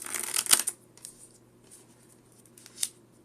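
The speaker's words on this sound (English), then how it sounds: "We just need this to be shuffled and random as possible." Sleeved Pokemon trading cards being riffle shuffled by hand, a loud crisp burst of flicking cards at the start, then a few softer taps and one more short riffle, close and alone.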